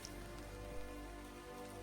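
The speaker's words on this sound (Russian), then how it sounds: "Заливает." Heavy rain pours through a wet forest, a dense, constant hiss of drops on leaves and ground, loud and close with no voices over it.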